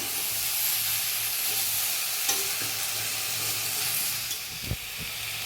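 Onion stalks and steamed potatoes fry in a pan with a steady, close sizzle and hiss, plus a few light stirring knocks and no talking.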